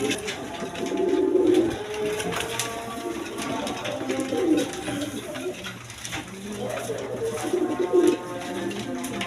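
Pigeons of mixed breeds kept at a breeding farm coo repeatedly in low, throaty rolls, several birds close by, with continuous background noise and occasional faint voices.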